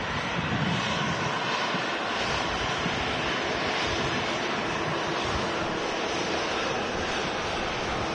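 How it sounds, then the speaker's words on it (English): A Boeing 757 jet lines up for departure at Manchester Airport, its engines a loud, continuous broadband roar that holds steady throughout, heard from a distance with no talking. "Privilege 757 as it lines up on 2305 left for departure."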